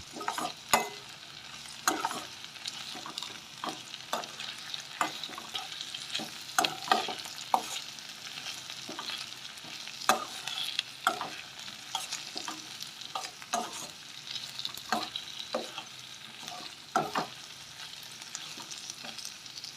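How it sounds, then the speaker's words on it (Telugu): Chopped green chilies fried in a pan, a constant close sizzle broken by frequent sharp scrapes and taps of a spoon as they are stirred, with no talking. "కోసి పెట్టుకున్న పచ్చిమిర్చి ముక్కలు వేసి కలుపుతూ వేగిస్తూ ఉండాలి"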